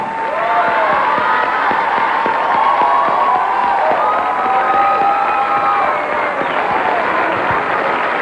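Studio audience at a Siempre en Domingo variety show applauding and cheering loudly for the Timbiriche reunion medley, a dense, steady roar of clapping and shouting voices throughout with no break.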